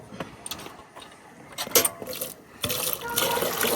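Fresh milk poured out of a kettle, giving a liquid splashing and trickling sound with a few metallic clinks, building into a steadier pour near the end.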